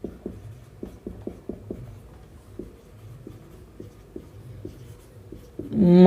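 Someone writes on a board during a hydraulics and fluid mechanics lecture, making a quick series of short, rhythmic tapping strokes with pauses, then a louder rustle at the end.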